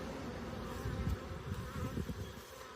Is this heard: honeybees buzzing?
yes